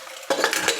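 Pressure cooker lid being fitted on while making carrot halwa, a short silence broken by a sharp metallic clatter and a few quick scraping clinks, close and clear.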